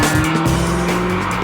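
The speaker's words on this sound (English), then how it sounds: "Remember that muscle car he likes to take for a spin on a nice day?" A muscle car being driven, its engine roaring loudly up close while the tires squeal and skid across a short, sustained burst with no talk.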